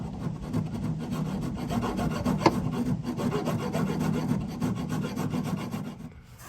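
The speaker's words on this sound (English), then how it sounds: "Close enough now I can finish it with a file." A metal part for an electric power steering conversion on a 1966 Ford Econoline is filed by hand, with steady back-and-forth rasping strokes close up that continue throughout and fade at the end.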